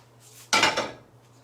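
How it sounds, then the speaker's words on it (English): A spoon knocks and scrapes once against a bowl while cream is stirred into corn bread batter, a single close, sharp clatter that fades quickly. "I'm going to stir more cream into it"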